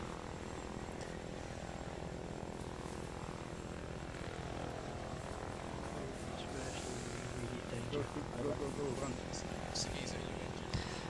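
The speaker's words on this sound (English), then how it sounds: "Why the fuck can I hear helicopters but I can't hear shooting?" Helicopter rotor and engine drone in a military video game, a steady continuous hum running the whole time with brief radio-style voices over it.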